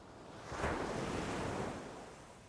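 Open ocean water at night, a broad wash of waves with one swell surging up early, holding, then slowly easing off, mixed with a windy rush and no voices.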